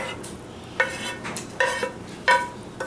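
Drained noodles are stirred into a sauce mixture for baked spaghetti, with a soft wet churning and four or five sharp clinks of a utensil against the pot or dish at uneven intervals, close by.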